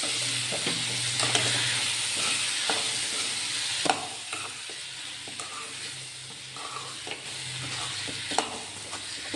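Brinjal frying in oil in a pan gives a steady loud sizzle, with a spoon stirring and scraping in irregular clicks and scrapes over the hiss.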